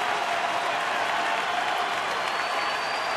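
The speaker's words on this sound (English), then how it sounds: "This crowd trying to help Fielder do some damage here in the 8th inning." A baseball stadium crowd at a Giants–Brewers game in Milwaukee keeps up a steady, distant roar of cheering and clapping in the 8th inning as the batter steps in.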